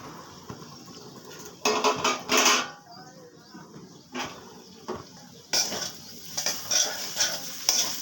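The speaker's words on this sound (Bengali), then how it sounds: "মশলার সাথে আলুগুলোকে ভালো করে মিশিয়ে নিলাম।" Potatoes tossed with spices and ginger in a frying pan sizzle under repeated scraping and clanking of a spatula, the stirring coming in uneven bursts.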